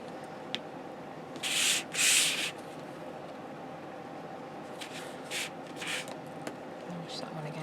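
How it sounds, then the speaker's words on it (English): A paper craft album page from a monster album kit is burnished by hand: two firm scraping rubs close together near the start, then several shorter, lighter strokes, over a low steady room hum. "Okay, so burnish that one."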